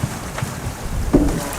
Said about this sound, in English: we're getting 28 knot gusts, and this swell has really picked up